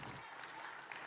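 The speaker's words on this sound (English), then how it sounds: "let's hear some clapping for yourselves" A conference audience claps for itself, a brief, soft and distant burst of dense applause from a crowd.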